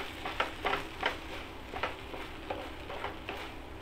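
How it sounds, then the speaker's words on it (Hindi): Fried paneer filling is stirred in a pan over a low flame, a soft continuous sizzle broken by repeated scraping strokes of the spoon at a fairly even rhythm. "अब इसमें हम हमारा फ्राई किया हुआ मटेरियल मिक्स करेंगे और आँच धीमी रखेंगे।"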